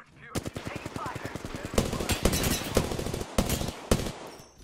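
Rapid bursts of automatic gunfire in a shooter video game, loud and close, with sharp separate shots breaking through the rattling volleys and voices heard faintly underneath.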